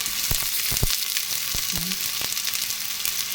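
Onions frying in a pan after ginger, a loud, bright, continuous sizzle up close with a few sharp crackles and spoon knocks scattered through it.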